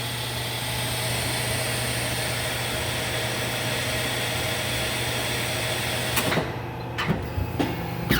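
The motor of a 2008 Perfecta 92 HTVC hydraulic programmable paper cutter with air table runs in a steady, even hum, then a few sharp clunks break in near the end.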